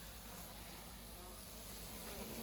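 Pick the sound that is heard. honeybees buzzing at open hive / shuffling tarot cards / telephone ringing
honeybees buzzing at open hive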